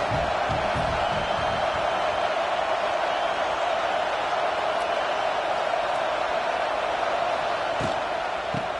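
A stadium crowd at an American football game makes a steady, broad roar that holds at an even level throughout, with faint distant thumps and shouts mixed in.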